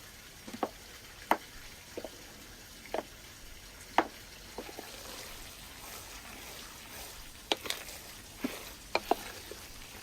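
Sausage ingredients and chopped vegetables are mixed by hand in a bowl for rustic sausages, with irregular soft wet squelches and knocks spread unevenly over a quiet background.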